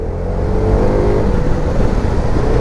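A Zontes M310 motorcycle engine drones under acceleration, a steady low rumbling hum that holds fairly constant and close throughout, with no speech over it.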